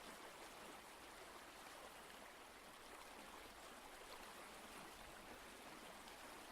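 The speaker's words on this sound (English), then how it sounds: "Knowing that this is where that babbling and gurgling has been coming from" River water babbling and gurgling past a turning mill wheel, a steady, even wash of flowing water that holds constant throughout, with no voices.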